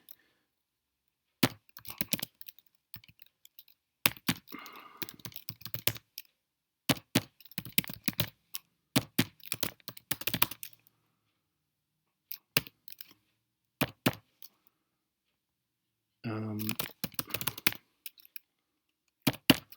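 Typing on a computer keyboard, irregular bursts of close, crisp key clicks separated by silent pauses, with one denser rattling run of keystrokes near the end.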